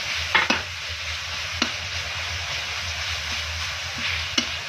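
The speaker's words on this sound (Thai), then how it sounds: "คั่วเครื่องที่เราโขสมุนไพรให้หอมๆกันนะ ใส่น้ำมันไปนิดนึง" Pounded herb paste stir-frying in a little oil in a pan, a steady soft sizzle with a few sharp scraping clicks from stirring, close and continuous, no talk.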